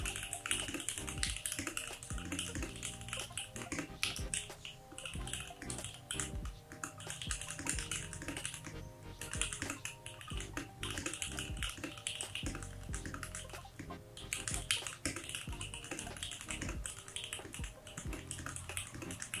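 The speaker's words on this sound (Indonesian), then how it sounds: "Dan berikut adalah typing test dari keyboard ini." Someone types steadily on a custom mechanical keyboard fitted with Cherry stabilizers and sea-blue keycaps, producing a continuous, close clatter of rapid key presses with no talking.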